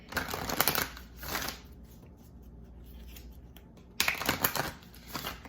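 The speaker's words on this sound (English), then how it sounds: "And one more shuffle." Oracle cards being shuffled in two brisk riffling bursts, quiet in between, close to the microphone.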